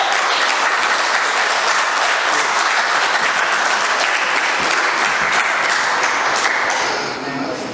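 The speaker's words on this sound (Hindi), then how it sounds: "दावत देता हूँ जोरदार तालियों में" Audience at a poetry mushaira in Sharjah breaks into loud, sustained applause, many hands clapping densely and evenly before easing off slightly at the end.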